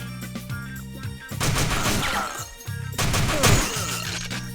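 Gunfire from the video game TimeSplitters 2, with loud bursts of rapid shots and crashing impacts over busy game music, coming in two dense clusters.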